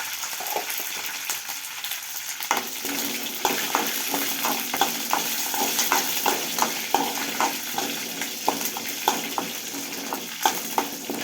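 Steady crackling sizzle of dried chillies and cumin in hot oil, with occasional sharper pops and scraping stirs throughout.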